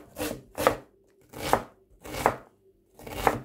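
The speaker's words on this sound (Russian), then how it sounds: "Репчатый лук нарезаем кубиком." Five crisp knife chops dicing onion on a cutting board at a steady, unhurried rhythm, each a short woody thud with a bright edge, close and clear, no voices.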